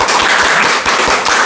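Congregation at a Sunday church service applauding a first-time visitor, a dense steady wash of many hands clapping at close range, loud and continuous with no speech over it.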